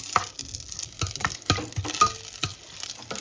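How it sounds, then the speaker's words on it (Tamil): Solid coconut oil melting in a hot pan, heard as soft close frying crackle and sizzle with scattered stirring clicks and scrapes, steady throughout. "இப்போ சூட்டு சட்டிக்குள்ளே போட எல்லாம் உருகிடுவார்"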